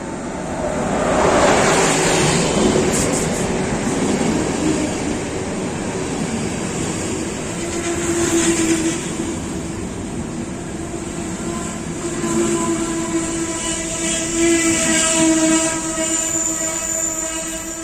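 A Fatran fast train, class 362 locomotive bound for Banská Bystrica, pulls into Český Těšín station with steady rumbling wheels on rail and a long rolling approach, loud and continuous throughout.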